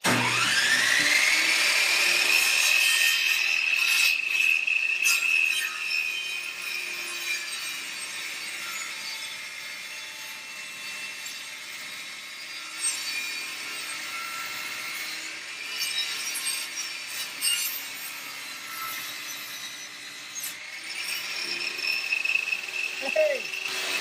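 A chainsaw whines steadily at high pitch, cutting into a Tyent water ionizer, with a sustained buzzing drone that dips and rises, briefly easing in the middle before revving again.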